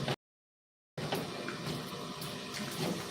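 Water pours steadily into grated coconut for sol kadhi, a continuous close splashing and trickling that starts after a brief silent gap and runs to the end.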